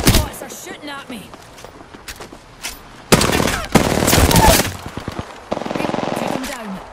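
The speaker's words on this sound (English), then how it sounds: "The enemies are shooting." Automatic weapon fire in the battle royale Apex Legends, with short bursts and then two long, loud, rapid strings of shots close by, separated by quieter footsteps and movement, with voices speaking during the fight.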